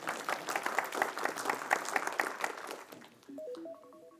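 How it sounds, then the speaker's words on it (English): Audience members applaud after a software demo during a presentation, a moderate clatter of clapping that fades after about three seconds into a short, quiet run of stepped electronic tones. "You may applaud."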